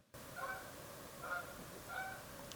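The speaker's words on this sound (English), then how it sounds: "Let me let that goose go by." Near a creek during a fishing outing, a goose honks three times at roughly even intervals, moderately close but faint, over a soft outdoor background.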